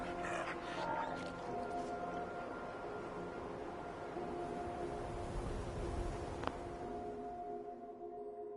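Dogmeat, the dog companion in Fallout 4, gives faint whimpers and yips over a quiet game background, with a person speaking softly.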